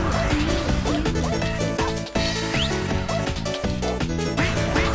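Duck quacking sounds inside the DJMAX Respect rhythm game during a song, short quacks mixed into busy, loud electronic music, with a voice imitating the quacks.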